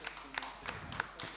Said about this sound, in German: Nochmal einen kleinen Applaus für dich.